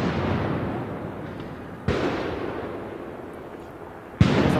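Aerial mortar fireworks burst at a nighttime street protest in Portland, Oregon, with two sharp, loud detonations a couple of seconds apart over a steady roar of crowd and street noise.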